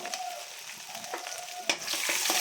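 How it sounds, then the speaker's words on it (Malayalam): Crushed garlic, ginger and mustard seeds fry in hot coconut oil with a soft, steady crackling sizzle, a few small pops and scrapes, and the sizzle swelling louder toward the end. "അതിലേക്ക് വെളിച്ചെണ്ണ ഒഴിക്കുക കടുക് ഇട്ട് കൊടുക്കുക വെളുത്തുള്ളി ചതച്ചത് ഇഞ്ചി ചതച്ചത് അതൊന്ന് മൂത്ത് വരുമ്പോൾ"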